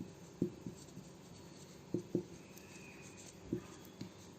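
An equation being written by hand on paper during a class 10 linear equations lesson: faint, close scratching pen strokes with a few distinct taps and clicks spaced irregularly, over a quiet room tone without talk.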